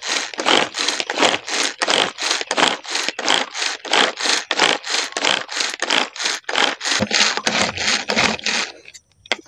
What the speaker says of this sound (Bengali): এটা বিনা বিদ্যুতের মিক্সচার। এইভাবে করে বেটে আমি এখন জুসটা বের করে নেব।